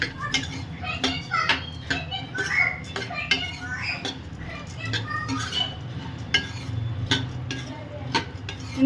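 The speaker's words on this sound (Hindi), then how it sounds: "तो अब इन भुगड़ों को हल्का सा भून लेंगे" Bhugde (lotus seed nuts) being roasted and stirred in ghee, with repeated sharp scrapes and clinks of a spoon against the pan over a low steady background, close and moderately loud.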